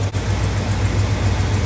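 A 1968 Imperial barn find with a tiny exhaust leak idling, a steady low rumbling drone with a constant hum, close and loud, without talk.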